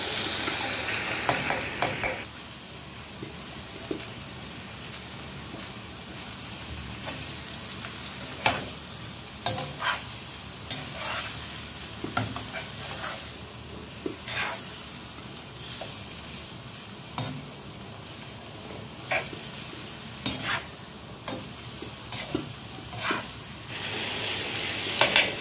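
Shrimp in garlic butter with tofu, shimeji mushrooms, cauliflower and bell pepper sizzles in a pan: a constant close frying hiss broken by irregular stirring scrapes and taps of a utensil, louder bursts of sizzle at the start and end.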